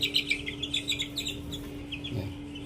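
Several Boston Roundhead gamefowl chickens give quick, choppy clucks nearby. The calls come in a busy cluster at first and then thin out over a low background hum.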